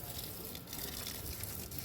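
Water runs steadily while filling a container at a home temple in Uttarakhand, a continuous splashing gush with small surges, fairly quiet and close.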